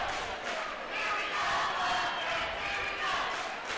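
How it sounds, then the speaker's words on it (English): Gym crowd at a boys' high school basketball game, roaring and shouting steadily as fans get fired up, a continuous loud wash of voices with no clear pauses. "Sam's working up the crowd. He's getting them going."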